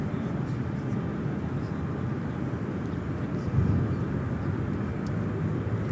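American Airlines Boeing 737-800 arriving at LAX from Miami, a fairly faint, steady jet rumble in the distance with a brief swell midway and faint voices underneath.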